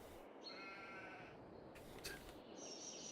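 Sheep bleating on a farm in Farming Simulator 22, two or three drawn-out, wavering bleats at moderate distance over a soft steady ambient background, with no voices.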